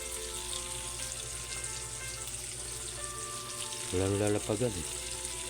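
GG fish frying in a pan gives a steady, close sizzle throughout, with a brief burst of speech near the end over the crackle.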